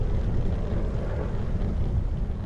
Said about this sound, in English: Sounds like a jet fighter.